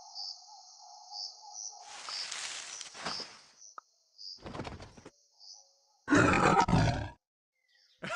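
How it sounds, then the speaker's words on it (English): A lion roars in a short game for children about first animals, with high chirping tones and clicks before it. A loud, rough roar bursts out late, followed by quiet. "Lion."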